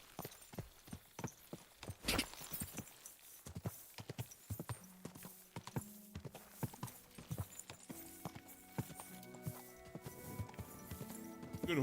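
Horse hooves clip-clop in a quick, uneven rhythm as a rider's horse moves through Kingdom Come Deliverance 2, sharp close strikes scattered across the passage with game music and a faint voice in the background.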